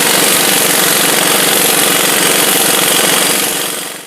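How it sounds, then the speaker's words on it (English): Loud rapid hammering of an impact wrench removing the front axle nut on a 2004 Buick LeSabre during a wheel hub bearing job, a dense continuous rattling burst that holds steady and then winds down at the end. "and then remove your axle nut."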